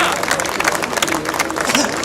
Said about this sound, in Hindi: रवि भाई के लिए जोरदार तालियों से जब तक ये शुरू ना करें अपना उद्बोधन, तालियां रुकनी नहीं चाहिए, जोर से